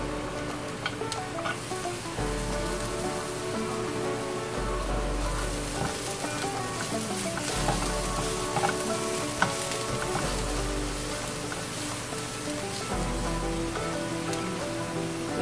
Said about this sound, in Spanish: Ya que está bien cocidita la, la cebolla, le voy a agregar el ajo.